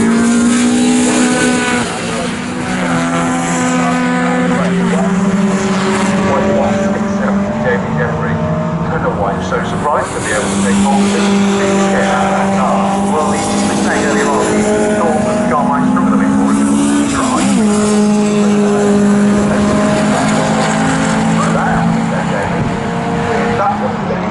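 Saloon race cars on the Snetterton circuit roar past, loud engine drones rising and falling in pitch as they sweep by, with a commentator talking continuously over them.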